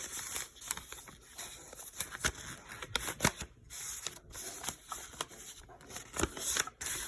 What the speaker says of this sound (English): Paper bindle will now be placed into the security envelope.